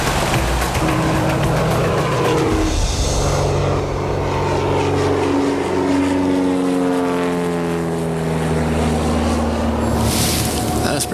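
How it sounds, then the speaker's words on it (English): A plane taxiing before takeoff: a loud, steady engine and propeller drone fills the cabin, with a rising and falling harmonic whine running throughout. "we are in the plane and we are taxiing now"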